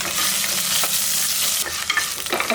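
Ginger and garlic sautéing in a hot pan for a goat head curry, a continuous sizzle with scraping stirs and spatula clicks near the end.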